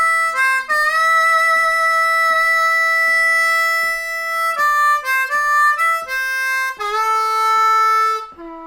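A G harmonica played in third position runs a blues lick of clear sustained reedy notes with bends and a steady tapped pulse beneath, loud, close and solo.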